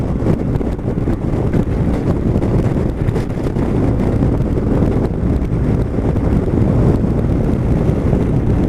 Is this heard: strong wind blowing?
yes